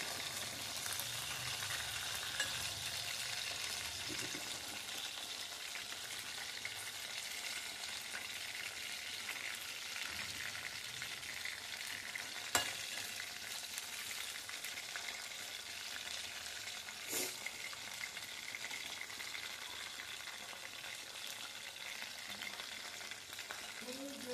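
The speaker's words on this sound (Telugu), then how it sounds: "ఇలాగా కొద్దిసేపు వేగనిద్దాం" Chicken pakodi frying in a pan of hot oil, a steady, dense sizzle that runs without a break at close range, with a few brief clinks or stirring knocks and no talk.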